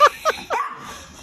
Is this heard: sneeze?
no